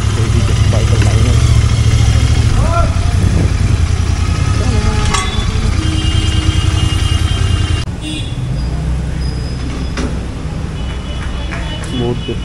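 Motorcycles idle in a queue at a petrol pump, their engines chugging loud and close with a steady low rumble that eases slightly partway through, while background traffic noise carries on around them.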